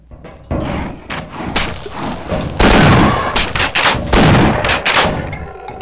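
Shotgun blasts in Half-Life, loud booming shots that come in heavy clusters, close and punchy, with thuds between them.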